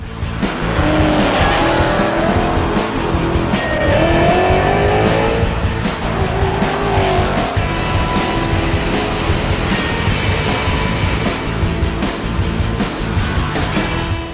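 A Vortech-supercharged 2011 Ford Mustang GT with a 5.0L engine on a drag run: loud, close engine roar holds throughout, with tire squeal and rising revs, and no talk.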